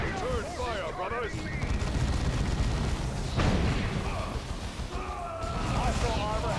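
Return gunfire and explosions crackle through a Warhammer 40K Dawn of War II battle, dense and continuous under voices shouting orders, with booming impacts mixed into the steady clatter.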